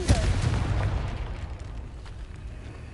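A Confringo blasting spell explodes in Hogwarts Legacy, a single loud burst at the start with a low rumbling tail that fades over a few seconds.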